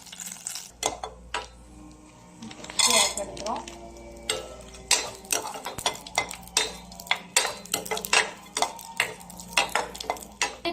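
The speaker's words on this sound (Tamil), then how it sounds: "நம்ம முந்திரி திராட்சை இதிலே வறுத்து எடுத்துக்க போகிறோம்" Cashews and raisins sizzle in butter in a pan while a metal spoon stirs and scrapes repeatedly in a quick, uneven rhythm, close and fairly loud.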